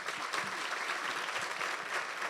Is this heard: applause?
yes